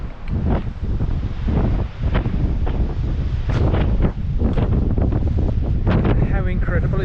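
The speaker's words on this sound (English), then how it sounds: "And it's very windy." Strong gusty wind at a coastal lookout in Shetland buffets the microphone in loud, rough bursts, with a voice briefly audible beneath the roar.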